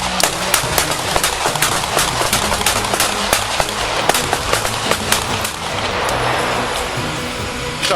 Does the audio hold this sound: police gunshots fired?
yes